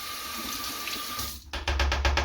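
Tap water runs into a sink while soap is rinsed out of makeup brushes, a steady splashing stream that swells louder and choppier partway through as the brushes pass under the flow.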